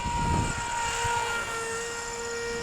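A heavy MIA Autogyro EZ 1.25 RC gyrocopter flies close by, its motor giving off a steady droning whine with a tonal hum that shifts slightly in pitch across the brief span, with no voices.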